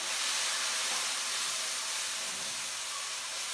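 Tomatoes dropped onto onions sizzling in a pan for daal, a loud, dense, steady hiss filling the whole moment with no voices.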